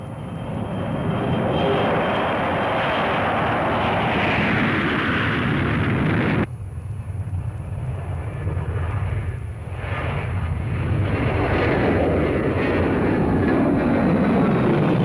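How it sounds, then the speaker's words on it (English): Roaring jet engines of a U.S. Strategic Air Command military bomber launching during the Cold War, a loud continuous rumble that drops abruptly mid-way and then builds again, steady and close with no speech. "and the aircraft launched"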